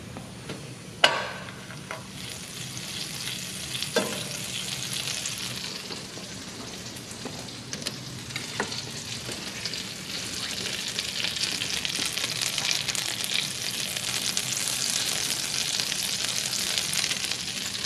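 Steak and potatoes fry in a pan, a continuous hissing sizzle that grows denser and brighter over time, with occasional spits and clanks of utensils, no talking.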